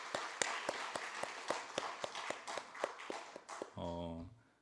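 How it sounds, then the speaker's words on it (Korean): A church congregation claps for the children in a steady, quick rhythm of sharp hand claps, ending with a brief tonal sound as the clapping stops. "우리 다음 세대 자녀들 축복하는 마음으로 박수 한번 쳤으면 좋겠습니다"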